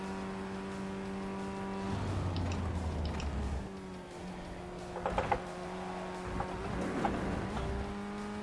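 A race car engine in the iRacing sim drones with steady harmonics, dropping in pitch through downshifts, with clustered blips and rough rev spikes as gears change mid-race.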